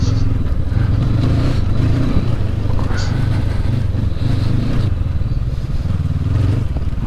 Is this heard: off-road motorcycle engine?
yes